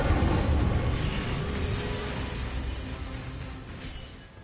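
The Incendio fire spell in Hogwarts Legacy bursts as a loud roaring blast that starts at full strength and slowly dies away over a few seconds.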